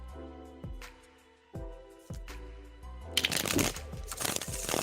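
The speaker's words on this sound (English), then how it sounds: "Shuffling for your first question right now." A deck of tarot cards is handled and shuffled, a few soft taps and riffles under a quiet musical tone, then a louder burst of rapid riffling shuffles toward the end, close and alone.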